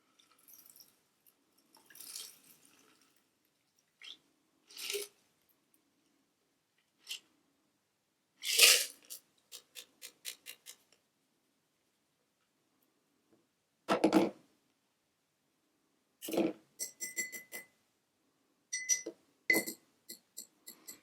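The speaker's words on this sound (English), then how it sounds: "But I'm going to actually double strain this one because I did see some seeds come out of the lemon." Cocktail being double strained into a glass, with scattered clinks of ice and metal, short pours and drips, and a few brighter rattles of the strainer, all close and fairly quiet with long gaps between sounds.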